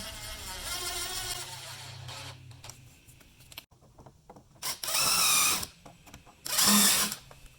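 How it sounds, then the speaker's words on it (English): A power driver sinks trim head screws into wood during bed cabinet assembly, giving two loud, bright whirring bursts of a second or so each after quieter mechanical handling and clicks. "insert the trim head screws and screw them in, burying the head of the screw just slightly."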